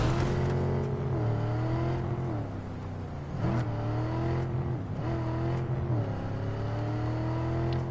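A car engine in Cyberpunk 2077 on a base PS4 revs loudly and continuously, its pitch dipping and climbing through several gear-like shifts.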